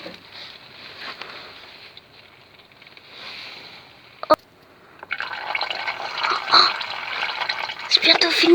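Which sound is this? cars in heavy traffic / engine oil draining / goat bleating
engine oil draining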